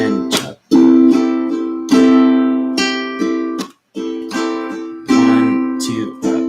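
Ukulele strummed in a rhythmic down-up pattern with muted strokes, each chord ringing clearly and loud up close, with short gaps between phrases and no voice over it.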